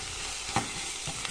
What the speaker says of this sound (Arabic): ونخلط